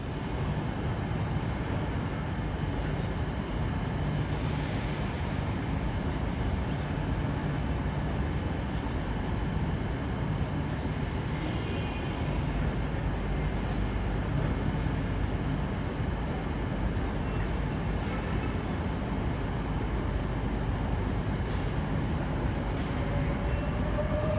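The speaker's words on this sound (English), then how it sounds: "Let's wait for our train to come in, then we will board." A Class 395 Javelin train arrives at a station platform, a long, loud, steady rumble of wheels and motors rolling in, with brief brake hiss and a faint rising squeal toward the end.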